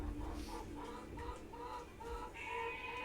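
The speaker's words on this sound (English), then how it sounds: "That sounds like my chickens." Backyard chickens cluck in short, repeated bursts over a steady low background hum, moderately loud and continuous for a few seconds with no talking.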